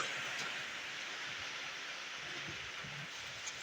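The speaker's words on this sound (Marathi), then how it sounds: "पाऊस आला" Steady rain falls, a soft continuous hiss with faint scattered drops, fairly quiet and unbroken.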